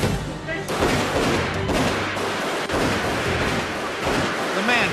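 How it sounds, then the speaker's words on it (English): Gunfire erupts inside a school boardroom as a shooter fires and a police officer returns fire, a loud dense burst of shots and impacts running almost continuously, with panicked voices mixed in. "Bullets tear through the room."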